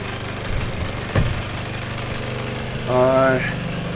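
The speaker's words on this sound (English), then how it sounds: "the Honda generators are really nice and quiet" A Honda generator runs at a steady, low drone in the background, fairly quiet, with a person talking over it and a brief knock partway through.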